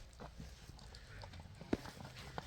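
A young colt's hooves clop faintly on the ground as it is led along, with a few scattered steps and one sharper knock amid quiet outdoor background.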